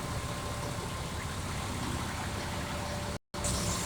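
A shop vehicle's engine idles with its exhaust running, a steady, even rumble close by that briefly cuts out near the end before resuming.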